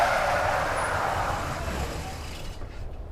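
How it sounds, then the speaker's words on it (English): In the video game 428: Shibuya Scramble, a car's brakes screech as it skids to a halt, a loud, smeared hiss that slowly fades and falls quiet at the end. "The sound of screeching brakes filled the air as the vehicle skidded to a halt"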